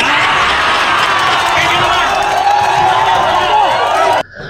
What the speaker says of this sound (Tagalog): sigawan ng mga tao kasi nakita nila kung anong klaseng Pastor Sulpot si Archie Añedes